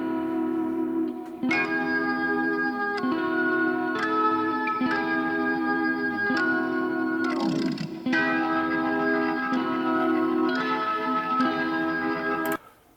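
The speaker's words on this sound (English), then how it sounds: "And that's doubled with a Hammond organ." A rhythm guitar part from a song, doubled by a Hammond organ. The chords are steady, repeated and rhythmic, with echo and a swirling chorus-like sheen, and play alone and continuously.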